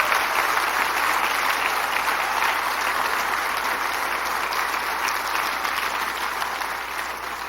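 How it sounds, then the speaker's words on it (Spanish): A church congregation claps together in a dense, even roar of applause that holds steady throughout, slowly easing in loudness toward the close, with no voices standing out. "Denle un aplauso al Señor"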